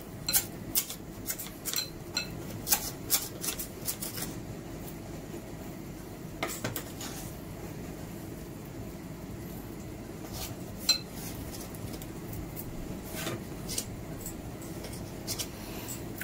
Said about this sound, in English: I'm now going to add some fat leaf parsley, chopped. Just going to quickly chop that up.